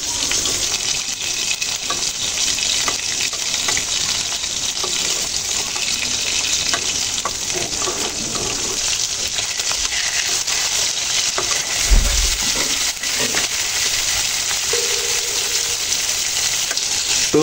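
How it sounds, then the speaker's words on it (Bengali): Taki fish fry in a pan of hot oil with a loud, steady sizzle throughout, and a short low clunk from the pan partway through. "তো দেখতেই পাচ্ছেন আমার টাকি মাছ ভাজা হয়ে গেছে।"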